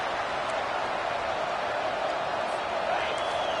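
A home football crowd at a P5 vs BC game roars steadily through a third down, a dense, even wall of noise with no break and no clear peak.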